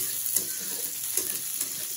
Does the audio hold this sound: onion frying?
yes